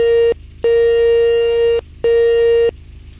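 Car horn of a Lexus LX450D in the City Car Driving simulator, three loud steady synthetic honks, the first short, the second long, the third medium, separated by brief gaps over a low engine rumble.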